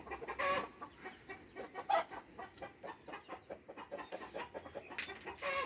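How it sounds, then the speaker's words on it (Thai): Chickens cluck softly in a quick, uneven run of short repeated clucks that continues throughout, fairly faint and with no talk. "ดูไก่สิ ไก่เป็นอะไร"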